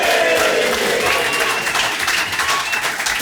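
A crowd in a Tokyo bar claps and cheers in a dense, continuous roar of applause, loud and close throughout.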